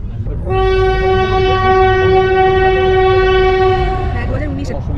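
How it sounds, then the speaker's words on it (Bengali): The Shatabdi Express departs Howrah station with a long, loud, steady horn blast lasting several seconds over a heavy rumble of the train and station. "ট্রেন ছাড়লো এই মাত্র।"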